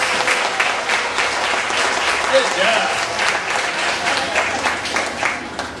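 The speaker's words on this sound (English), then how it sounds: "Give her a big round of applause." A crowd at a magic show applauds loudly and continuously, many hands clapping in a thick, sustained wash, while a nearby voice briefly speaks over the clapping.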